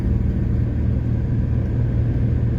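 A 30-year-old truck with 330,000 miles rolls along the road, its engine and tires making a steady, loud low rumble from inside the cab with no pauses.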